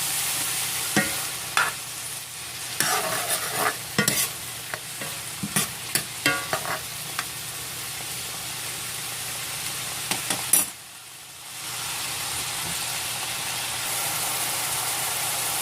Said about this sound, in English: once you got your vegetables or your seasoning simmering good